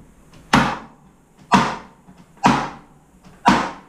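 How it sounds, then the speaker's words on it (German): A staple gun fastening mesh onto a wooden varroa board for a beehive, four sharp, loud impacts spaced about a second apart, each decaying quickly, with no talk. "Hier schön dicht tackern, damit keine Kante entsteht"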